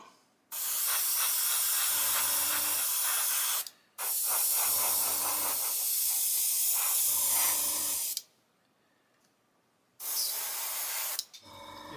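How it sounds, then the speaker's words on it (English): An airbrush sprays paint onto a 1/35 scale Junkers Ju 87 G Stuka model in long, loud, close hissing bursts of several seconds each, separated by brief pauses, with no talk. "We're out of paint now. So we'll give the airbrush a clean"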